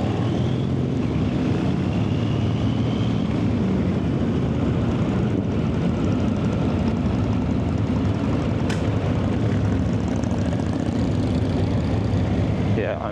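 Steady engine drone from motorcycles riding together, heavy wind rush over the microphone, continuous and close with no pauses.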